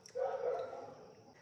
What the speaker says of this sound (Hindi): फिलहाल कुत्ते भौंक रहे हैं